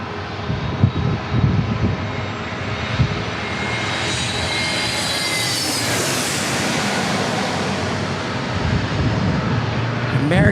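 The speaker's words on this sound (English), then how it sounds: "Ooh, another A321." An American Airlines Airbus A321 jet roars past at an airport in San Diego, the engine noise climbing to a loud peak midway with a rising whine, then holding steady as it moves off.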